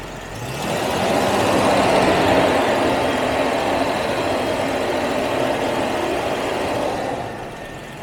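A Jaguar XJ12 V12 engine with a misfire, held at raised RPM: a steady, continuous engine drone that swells in, holds evenly for several seconds and eases off, close and moderately loud with no talking.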